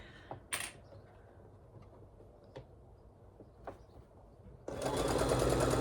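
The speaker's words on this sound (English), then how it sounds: "We're just going to back stitch to the beginning." A sewing machine back stitches a project bag, starting with a loud, close, steady mechanical whir near the end after quiet handling clicks and small taps.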